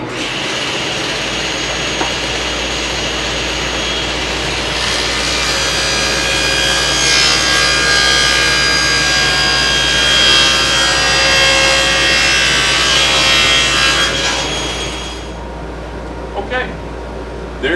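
A saw cuts a bevel along a wooden piece with a large void for a table saw cabinet leg, a loud, steady whining cut lasting about fifteen seconds before winding down.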